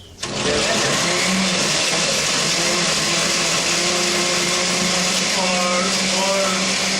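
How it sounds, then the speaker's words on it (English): Kitchen blender whirring steadily at speed three for several seconds, a loud continuous motor drone with ice and drink ingredients churning inside, starting abruptly and running without pause. "turn on the blender."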